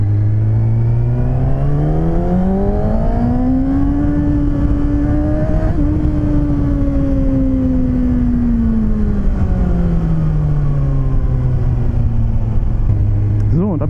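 A Kawasaki Ninja ZX-6R 636 motorcycle engine revs up and holds high before easing back down on a first ride, loud and close with steady wind noise, while a rider talks over it.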